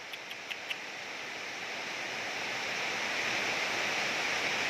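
Heavy rain pours steadily with water running and flowing, a dense, even hiss that swells slightly louder over the span, with a few faint ticks early on and no voices.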